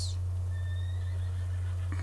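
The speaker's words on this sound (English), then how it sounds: "This must be Jack's horse." A small Morgan horse in Red Dead Redemption 2 lets out a faint, thin whinny over a loud, steady low hum, brief and somewhat distant.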